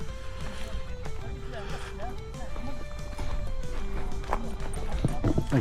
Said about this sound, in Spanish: Aquí hay un caballo, está aquí descansando.